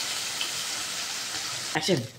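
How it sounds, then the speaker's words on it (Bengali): Amodi fish frying crisp in hot oil, a steady close-up sizzle with a short burst of louder spattering and scraping near the end. "কড়া করে মাছগুলো ভেজে নিয়েছি আমি"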